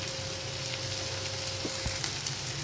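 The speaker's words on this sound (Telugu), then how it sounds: "ఫ్రై చేసుకోవాలి ఈ స్టేజ్లోనే ఆనియన్స్ కూడా వేసుకోవాలి కొంచెం ఫ్రై అయ్యాయి కదా" Onions fry in a pan for paneer fried rice, giving a steady close sizzle and crackle with a few faint clinks of stirring.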